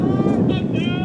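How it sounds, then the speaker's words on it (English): Wind gusting steadily across an outdoor high school varsity baseball field at Mason High School, a continuous low rumbling buffet on the microphone with faint tonal hum above, holding constant for the whole moment. "So it is a windy day here"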